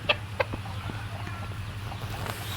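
Black and white country chickens kept for sale, giving a few short clucks near the start and scattered soft calls after, fairly close, over a steady low hum with no speech.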